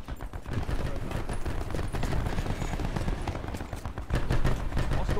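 Swordfish tactical rifle firing in a video game battle, rapid bursts of crisp gunshots overlapping with other weapons in a dense, continuous fusillade that gets louder near the end.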